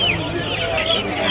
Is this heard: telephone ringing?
no